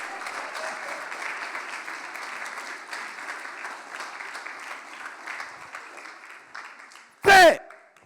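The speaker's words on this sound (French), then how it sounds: "Applaudis Isaac." Youth camp audience applauding Isaac: continuous crowd clapping at moderate volume, with a brief, very loud sharp burst near the end.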